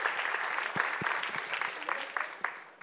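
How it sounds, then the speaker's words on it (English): An audience at a live-streamed pitch event applauds with steady, moderately faint clapping that thins out toward the end, with a few sharper claps standing out. "Round of applause."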